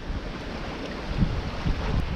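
A sailboat heaves through a fine ocean swell at night in steady wind on an Atlantic crossing; a continuous wash of wind and water rushes around the hull, with occasional heavier surges of waves slapping close by.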